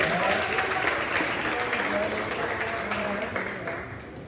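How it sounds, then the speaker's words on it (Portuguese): A church congregation claps in welcome for the pastor, a dense, steady wash of applause that holds for several seconds and eases off slightly toward the end. "Receba o pastor com as palmas de vitória."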